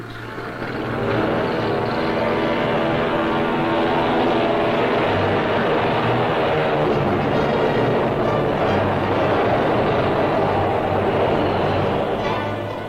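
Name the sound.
airplanes droning overhead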